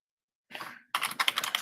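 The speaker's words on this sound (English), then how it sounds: "I'm actually typing on a different window" Keys clatter on a computer keyboard in a quick, close run of typing that starts, pauses briefly, then resumes as a denser burst of taps.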